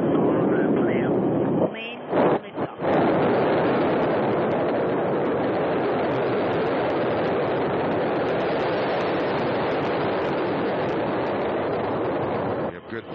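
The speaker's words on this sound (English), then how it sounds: "Liftoff of the Soyuz 29 spacecraft that is taking Don Pettit, Oleg Kononenko, and Andrei Kuipers to the International Space Station." Soyuz TMA-03M rocket engines roar at liftoff from four boosters and a single core engine, a loud, sustained broadband rumble with a brief crackling interruption near the start, then a steady roar to the end.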